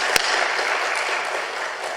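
A church congregation at a Korean afternoon worship service breaks into applause. Dense, steady clapping fills the whole brief moment at moderate volume.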